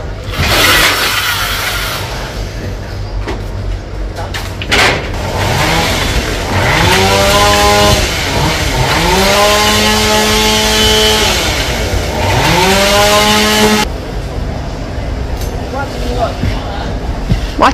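A chainsaw cuts down Dipterocarpus trees growing inside a house, its engine revving up and down in several long, loud rising and falling sweeps before cutting off, with steady background noise throughout.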